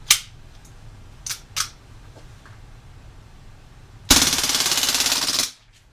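An Umarex M712 Schnellfeuer CO2 blowback BB pistol fires full auto: a few sharp clicks, then one loud, rapid, continuous burst of about a second and a half that stops abruptly.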